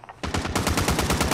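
Rapid automatic gunfire from a video game: a loud, close burst of evenly spaced shots that runs steadily without a break, with no voices over it.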